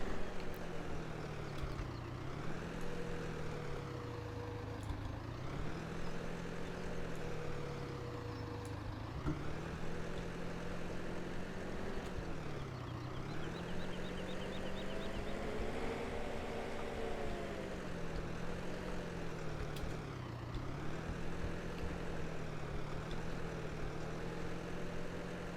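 A tractor engine in the video game Farming Simulator 17 drones steadily, its pitch rising and falling as the throttle changes, a low continuous hum with no talk over it.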